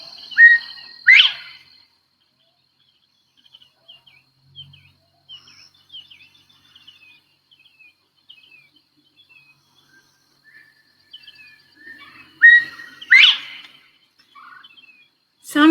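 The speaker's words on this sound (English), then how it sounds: "I'd like to show you a picture of a bobwhite quail," A northern bobwhite quail gives clear whistled calls, a loud pair near the start and another near the end, with faint scattered chirps between them against a quiet background.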